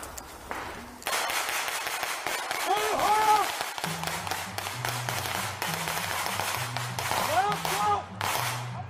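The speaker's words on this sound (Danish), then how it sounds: "Lige pludselig, så hører vi skud." Gunfire cracks out in sharp, irregular bursts during a military medic training exercise. The shots are loud and close, with shouted voices in between.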